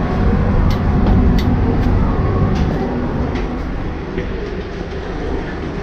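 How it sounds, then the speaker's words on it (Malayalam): A Vietnamese passenger train departs Hanoi on the line to Saigon, with a steady, loud rumble of rolling carriages and faint clicking from the rails running continuously throughout. "നമ്മൾ ട്രെയിനിൽ പുറപ്പെടുന്നു"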